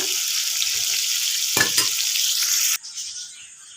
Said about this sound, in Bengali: এদিকে পটলটা তো ভাজা হচ্ছে